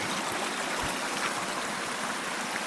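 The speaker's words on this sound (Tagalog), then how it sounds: "yung tubig na nanggagaling sa falls 1 dito bumabagsak sa may falls 3" Steady rushing water of a waterfall pouring down into a lower pool at Bolinao, a continuous broadband hiss heard alone at moderate distance.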